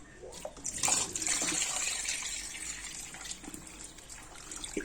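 Water pours into a cooking pot for mutton paya, a splashing, gurgling stream that rises quickly and then runs steadily before tapering slightly, with no voices over it.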